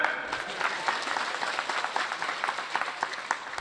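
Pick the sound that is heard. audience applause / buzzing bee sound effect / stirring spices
audience applause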